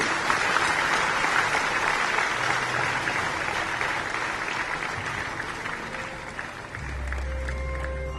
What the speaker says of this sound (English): amidst a round of applause from all of you.